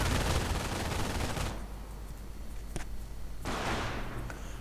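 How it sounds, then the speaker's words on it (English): MG42 machine gun fire in Company of Heroes, a World War II strategy game: a loud, dense burst of rapid automatic gunfire, a short pause with a few scattered single shots, then another sustained burst. "Down to 3 men getting stopped with the MG42."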